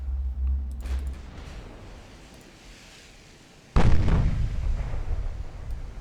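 Heavy 8-inch naval guns firing from a warship in the naval combat game Ultimate Admiral: Dreadnoughts: one loud, sudden boom after a quieter rumbling stretch, with a long rolling decay and no talk.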